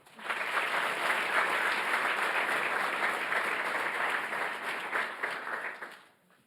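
Steady applause from an audience at a university graduation ceremony in Iceland runs evenly for several seconds, a dense patter of many hands at moderate distance, then tapers off at the end.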